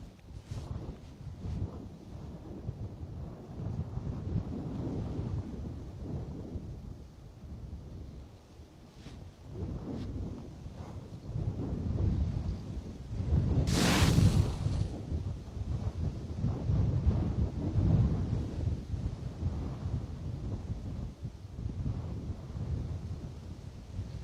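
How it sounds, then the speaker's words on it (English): Strong wind buffets the microphone at Bristol Airport, a continuous low roar with gusts swelling and easing over the whole stretch, one sharp burst standing out midway; no voices. "wind here really is quite staggering"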